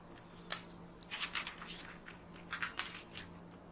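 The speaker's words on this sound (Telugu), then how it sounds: "ఫస్ట్ దీని మీద ఉన్న కవర్ని తీసేద్దాము." The protective cover being peeled off a blue Xiaomi Redmi Note 5 Pro during an unboxing: faint, crisp crinkles and sharp plastic snaps in irregular bursts, close up and quiet.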